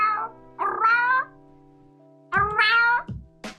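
A person imitates a cat's meow with their own voice, giving two drawn-out, clearly pitched meows separated by a pause, then a short yelp at the end, close and fairly loud with no other sound.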